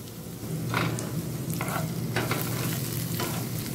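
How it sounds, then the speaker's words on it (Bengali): Capsicum, green chili, cashews, raisins and curry leaves frying on low flame in a sago upma, with a constant sizzle and several scraping stirs of the spatula. "কারি পাতাটা দিয়ে লো ফ্লেমে 3 থেকে 4 মিনিট ভেজে নেব, যাতে সবজিটা সেদ্ধ হয়ে যায়।"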